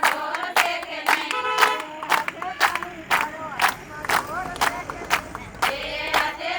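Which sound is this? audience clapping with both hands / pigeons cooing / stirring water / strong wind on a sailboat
audience clapping with both hands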